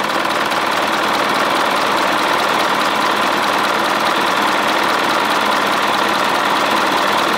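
The 4.8-litre non-turbo 4HL1 diesel of an Isuzu Elf crane truck idles with a loud, steady, rattling drone that stays unchanged throughout, heard up close with no voices.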